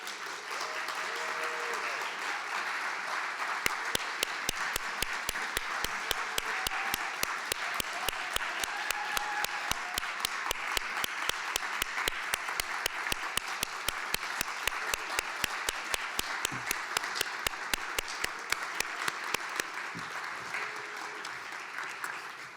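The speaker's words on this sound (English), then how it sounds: "You want to come back out for one big applause?" Audience applause at a city's State of the City address, a long, steady wash of clapping from a large crowd with a regular rhythmic beat running through it, loud and sustained throughout.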